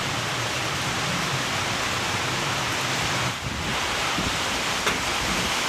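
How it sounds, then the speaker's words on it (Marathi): Heavy rain pours down in Hinjewadi as a dense, loud, unbroken roar that dips only briefly. "खूप जोरात पाऊस आहे"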